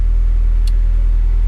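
A Honda F20-swapped DA Integra engine drones loud and steady on a dyno, a continuous low rumble that holds near 7,500 RPM with no speech over it.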